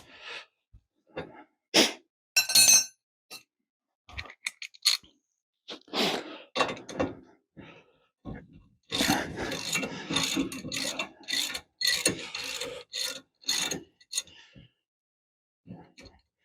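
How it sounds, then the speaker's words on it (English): A wrench works a front hub bearing nut loose on a Frogeye Sprite in a home garage, producing intermittent rasping, scraping bursts of varying length, close and fairly loud, with brief pauses between turns. "Now I just got to loosen this nut off."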